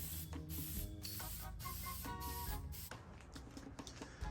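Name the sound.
spray painting final coat on motorhome radiator frame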